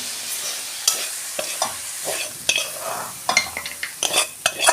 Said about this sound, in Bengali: দেখুন বন্ধুরা, আমার কত সুন্দর ভাজা হয়ে গেছে লাল শাক। আমি ঢেলে ফেলছি।